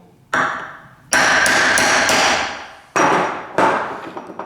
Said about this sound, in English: See if we can, with the cold chisel.